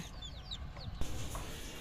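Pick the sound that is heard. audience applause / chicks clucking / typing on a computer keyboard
chicks clucking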